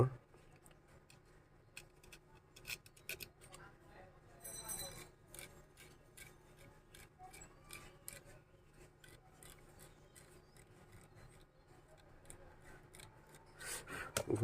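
A battery wire from an electric mosquito bat is rubbed clean with a file-like tool, giving faint, scratchy scraping with scattered light clicks at a quiet level.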